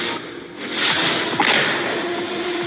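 A house is blown up: a loud blast bursts out, then a sustained roar of noise with crackling debris and thuds, heard from some distance.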